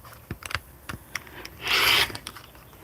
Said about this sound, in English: I'm just going to go ahead and cut through all 4 layers.